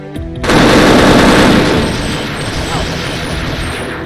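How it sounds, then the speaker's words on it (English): Loud rapid gunfire from the video game Perfect Dark bursts in suddenly after a brief voice, a dense rattling volley that eases slightly but keeps going. "the gunshots are insanely loud"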